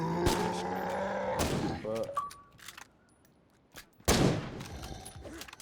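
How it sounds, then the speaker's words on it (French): In the zombie game State of Decay 2, a thrown grenade goes off as one sudden sharp blast, followed by game noises and gunfire-like cracks, with someone talking over the action. "je vais lancer une grenade"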